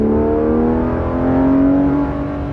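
A Porsche 991.2 GT3 RS with a side muffler delete revs hard, its loud, close, sustained engine note climbing and holding steady for a few seconds with no talk over it.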